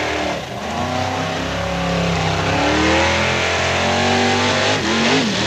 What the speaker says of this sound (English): listen to the much harder exhaust note